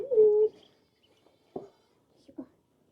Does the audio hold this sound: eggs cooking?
no